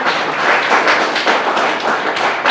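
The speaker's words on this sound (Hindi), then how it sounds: "क्या आप परमेश्वर की महिमा के लिए ताली बजा सकते हैं?" A church congregation claps together for the glory of God, a dense, steady patter of many hands that is loud and continuous throughout.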